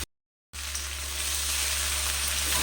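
Mixed vegetables, raw banana and tomato sautéing in a pan over a high gas flame, a dense, even hiss of sizzling that starts abruptly after a brief silence and holds steady.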